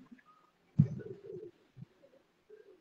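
A black-faced Sialkoti pigeon gives a few soft, throaty coos, one fuller burst followed by shorter murmurs, close by in an otherwise quiet setting with no talking.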